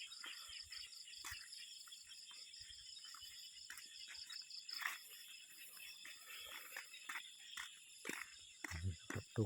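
Frogs croak in a faint, steady chorus near a rice field, layered over a constant high insect drone and heard from some distance, with a few louder bursts toward the end.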